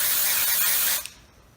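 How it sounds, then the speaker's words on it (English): Hair volumizing spray misted onto wavy hair, one steady close hiss of about a second that cuts off sharply, followed by a faint click and quiet. "you would just lift that up and spray it"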